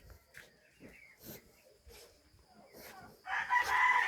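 Chickens cluck and call in short bursts, with a louder, busier burst of crowing and squawking near the end.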